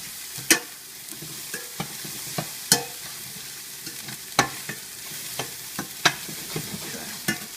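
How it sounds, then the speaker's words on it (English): Carrot tossed around a hot pan for pad thai, a steady sizzle broken by repeated sharp scrapes and clatters of utensil and pan at an irregular pace, close and fairly quiet. "So next I'm going to add my carrot and just toss that around really quick."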